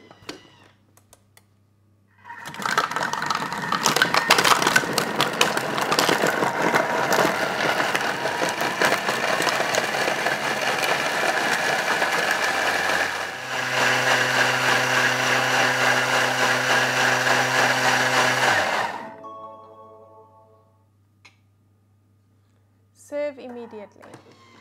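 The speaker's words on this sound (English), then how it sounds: "Add your lid and then blending for 1 minute." A blender whirring through a green smoothie for about sixteen seconds, loud and steady, its pitch dropping partway through as the mix thickens, then spinning down, with clicks before and after.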